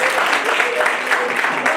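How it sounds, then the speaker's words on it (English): An audience at a student council campaign event gives a round of applause: steady, dense clapping throughout, with faint voices mixed in. "So round of applause for comedy."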